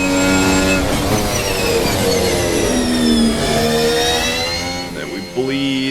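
2023 Formula 1 car engine in a racing game, revving high and loud with rising and falling pitch sweeps through gear changes, near and continuous, with no talking.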